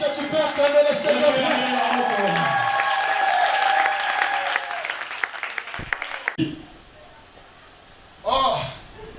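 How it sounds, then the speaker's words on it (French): A church congregation at a Sunday service applauds the Lord, a dense burst of clapping and cheering over music that rises strongly and then fades, ending with a short spoken phrase. "est-ce que tu peux acclamer le Seigneur?"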